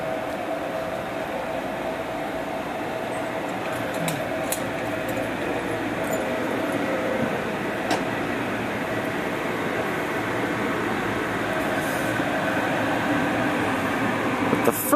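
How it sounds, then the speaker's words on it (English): Salt Lake City Blue Line light rail train, a three-unit consist led by two SD-160 cars, rumbling steadily at moderate distance with a continuous low roar and faint rattles throughout. "For the Blue Line train heading back, looks like we have a 3 unit."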